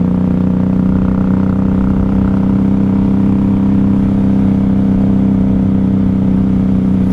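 A steady, droning 1994 Honda Magna 750 motorcycle engine in fifth gear at about 3,500 to 4,000 RPM holds a constant mid-range pitch, running evenly at cruising speed with low rumble and no pauses.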